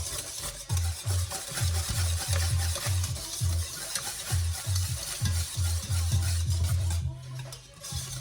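Custard for crème pâtissière being stirred in a pan over the heat, a steady run of soft scraping strokes in quick rhythm close by, with a faint sizzle beneath; no talking.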